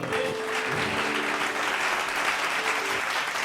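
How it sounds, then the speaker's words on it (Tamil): A congregation applauding during a Tamil Bible study message, giving thick, steady clapping at even loudness for the whole three and a half seconds, with a faint tone briefly audible beneath. "கைத்தட்டுங்க."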